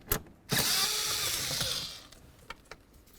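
A power tool backs out mounting bolts inside a 2006–2010 Ford Explorer dashboard: a short whir, then a sustained whining buzz of about a second and a half, followed by light clicks and taps, all fairly faint and close.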